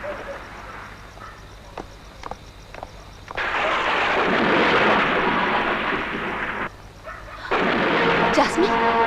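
Heavy thunderstorm in a Hindi horror film, a loud sustained rumbling roar that swells, briefly drops away, then surges back with crackling bursts.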